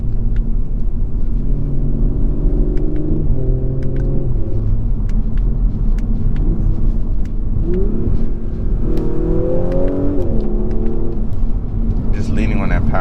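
Engine of a 2021 Audi S4 Premium Plus in dynamic mode with the sport transmission, a low rumble climbing in pitch through upshifts under hard acceleration, heard from inside the cabin with a voice talking over it.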